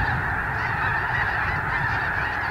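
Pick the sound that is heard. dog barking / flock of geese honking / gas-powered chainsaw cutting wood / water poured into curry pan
flock of geese honking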